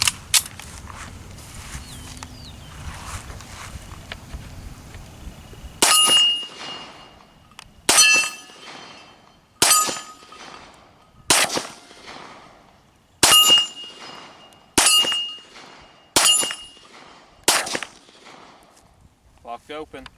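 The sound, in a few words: shots fired from a Walther P1 pistol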